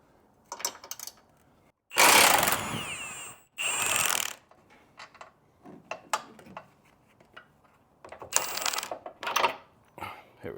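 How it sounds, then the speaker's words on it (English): An impact gun drives out a 19mm control arm bolt on a 2012–2018 Hyundai Santa Fe. Two loud, rattling bursts arrive close together, and scattered metallic clicks and ratchet-like ticks follow. "I'm using an impact gun on the bolt side"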